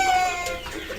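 Black Australorp breeder hens on a poultry farm give a brief burst of close clucking with a few sharp, overlapping calls.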